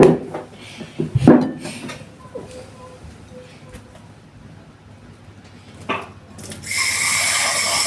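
Kitchen clatter and a couple of knocks, then water pours steadily from a tap for the last second or so, fairly loud and close.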